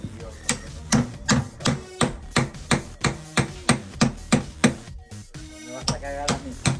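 Hammer blows on metal while improvising a makeshift Argentine-style barbecue, about a dozen sharp, evenly spaced strikes ringing close and loud, with a brief pause before the last few.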